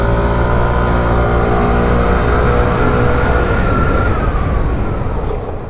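A 2021 SYM Jet 14 125 liquid-cooled scooter with a four-valve engine revs up, its loud, smooth engine note holding steady and close before easing off slightly near the end.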